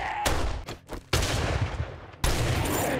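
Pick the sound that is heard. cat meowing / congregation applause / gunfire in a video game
gunfire in a video game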